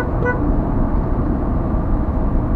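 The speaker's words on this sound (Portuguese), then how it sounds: "Deixa eu buzinar pra ele." Car horn sounds from a vehicle on the BR 459 highway in southern Minas Gerais, a short toot at the start followed by steady, loud road and engine rumble with no speech.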